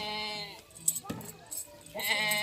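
Goats bleating on a farm where breeding does and a tall breeding buck are kept; several wavering, drawn-out bleats sound close by, broken by a short thump and mixed with human voices.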